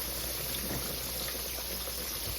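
Mustard-coated pork chops fry in a pan, giving a steady, dense sizzle and crackle of hot oil that stays close and even throughout, with no voices over it.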